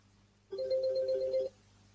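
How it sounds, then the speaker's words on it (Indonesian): A telephone rings once with a single sustained electronic trill lasting about a second, clear and close over a quiet room. "Ada telepon."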